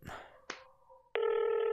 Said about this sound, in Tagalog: Cellphone samot nag-vibrate. Cellphone nagpaiso.